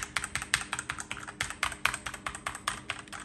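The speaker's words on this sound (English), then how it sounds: "Now, let's test the keyboard." Rapid, uneven tapping on a Galaxy phone's touchscreen keyboard, a steady stream of light clicks, close and fairly quiet with no voices.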